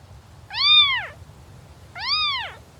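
A wild cat mother with kittens in the Kalahari gives two clear, drawn-out meows about a second and a half apart, close and distinct over a faint low background hum.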